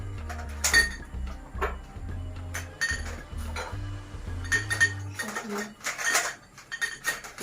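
Empty glass jars clinking and knocking as they are set one after another into a moving box in a kitchen pantry, irregular close clatters and chinks, with faint voices murmuring at times.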